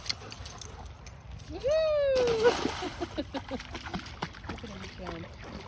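A dog splashes about in water outdoors, with scattered splashes and dripping after a brief whistle-like squeak, while people talk nearby.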